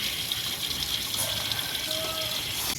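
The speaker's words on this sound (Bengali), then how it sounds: "ওখানে জল পড়ছে, গাছে জল দিয়ে নি।" Water splashes down onto garden plants among sunflowers and petunias in a steady, broad gush, fairly loud and continuous, with a faint mechanical squeak and a short tone partway through.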